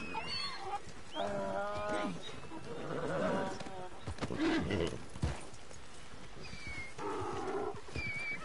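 Horses in the Red Dead Online video game whinny and neigh in several calls across the span, mixed with hoof clops and background game noise while someone talks over them.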